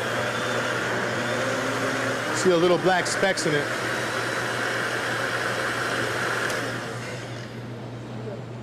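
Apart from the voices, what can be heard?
blender making ceviche sauce with Heinz 57 ketchup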